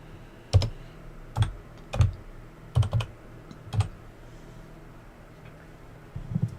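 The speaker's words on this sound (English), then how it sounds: "This is my spare keyboard as well. It's just for the racing sim." Keystrokes on a spare computer keyboard kept for a racing sim setup, a handful of sharp, close clicks in small bursts with short pauses between them, heard on their own with no talking.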